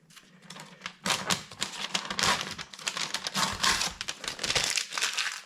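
Paper rustling and crinkling as it is fed up and out of a teleprinter, a dense run of close crackles and scraping with mechanical clatter, loud and steady for several seconds with no talk.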